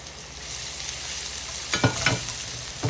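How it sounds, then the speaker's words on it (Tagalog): Garlic and onion sauté in a pan for Japanese chicken curry, a constant close sizzle broken by a few louder scraping stirs toward the end. "So sa same pan, magigisa na tayo."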